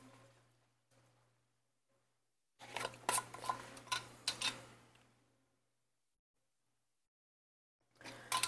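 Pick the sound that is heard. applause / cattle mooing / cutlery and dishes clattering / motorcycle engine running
cutlery and dishes clattering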